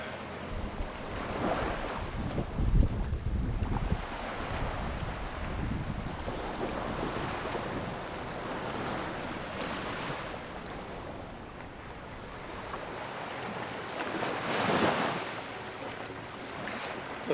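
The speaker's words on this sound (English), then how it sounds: "that'll get me a little bit closer to the waves" Ocean waves break and wash on Tentsmuir Beach, a broad surging roar that swells and recedes in slow cycles, mixed with blustery wind buffeting the microphone, with no one speaking.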